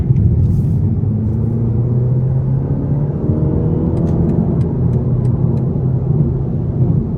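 A 2025 BMW 228 Gran Coupe in sport mode accelerates hard onto an interstate, its engine a loud steady rumbling drone with rising harmonics heard from inside the cabin, plus a few faint clicks, no talking.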